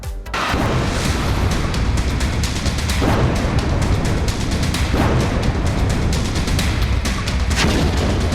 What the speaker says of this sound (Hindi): आतंक पर ट्रंप का बड़ा एक्शन। आईएसआईएस के ठिकानों पर एयर स्ट्राइक।